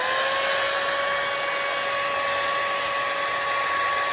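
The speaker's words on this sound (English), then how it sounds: "this is the blower attachment and the wind comes from this part" A blower attachment on a 5-in-1 hair styler runs as a loud, steady, continuous airflow whine with a constant tonal hum, unbroken for the whole stretch and with no talking.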